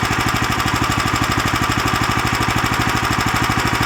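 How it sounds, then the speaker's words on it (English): A Lifan LF390QE Pro small engine runs close and loud, its rapid, even firing pulses forming a steady chugging rhythm with mechanical clatter. "we'll rev it up and see what it sounds like"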